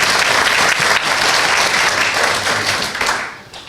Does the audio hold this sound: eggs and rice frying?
no